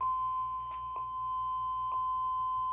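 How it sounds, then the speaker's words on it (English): An electronic device in test mode gives a steady, continuous high beep tone, with a couple of faint clicks over it. "Let's leave the beep running for a while just to make sure this is not on the batteries."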